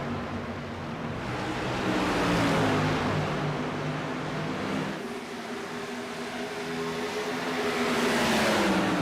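Several sprint car engines roar together on the oval at Iowa Speedway in iRacing, a dense, continuous drone with pitch rising and falling as four or five cars battle closely in the final lap.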